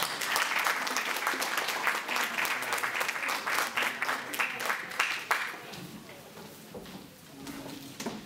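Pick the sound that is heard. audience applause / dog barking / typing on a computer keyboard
audience applause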